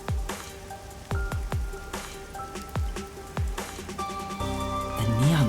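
Steady rain falls over a busy, messy neon-lit city district in Master Detective Archives: Rain Code, a constant wash with repeated heavy drip impacts landing close, and a low tonal hum rising near the end.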